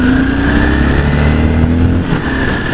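Road traffic on a busy street, car and motorcycle engines humming and revving in a continuous, close, loud wash with no voices over it.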